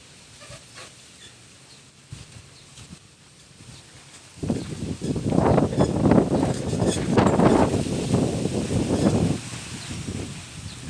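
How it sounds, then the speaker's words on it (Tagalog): Wind gusts roar and buffet loudly for several seconds, swelling from a quieter rustle and then easing off again. "Grabe pong hangin dito, grabe. Sobrang hangin."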